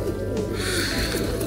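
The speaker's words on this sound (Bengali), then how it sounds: "কবুতরের শব্দ শুনতে পাচ্ছেন আপনারা? কবুতর ডাকতেছে।" Pigeons in Goodmayes Park, a soft low cooing heard through outdoor background noise, moderately near and not loud.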